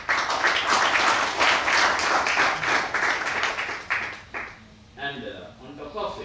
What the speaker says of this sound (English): I think we need a big applause.